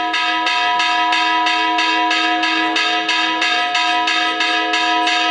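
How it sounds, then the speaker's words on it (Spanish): Parish church bells ring at dawn in a steady, even peal, one loud resonant stroke about every half second, each overlapping the ringing of the last, with no voices. "las campanas de la parroquia comenzaron a sonar"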